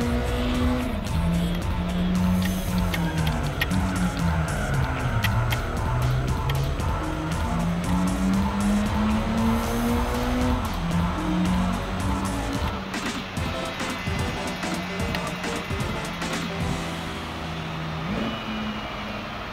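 Race cars roar continuously through a Gran Turismo 4 race played on a PS2 emulator, engine pitch rising and falling with gear changes, with tire squeal and skidding woven in; a voice speaks faintly underneath.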